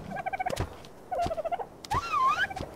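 Dodo birds calling in the Ark survival video game, three short warbling, gobble-like bursts of clucking with a rising squawk at the end, clear and close with no voices.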